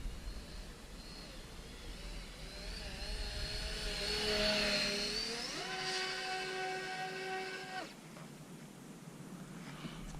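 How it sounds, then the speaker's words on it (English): A quad motor delta RC plane flies fast overhead, its electric motors whining loudly with a tone that rises sharply as it accelerates, then cuts off abruptly, leaving faint outdoor ambience. "That has to be the fastest accelerating plane that I've ever flown."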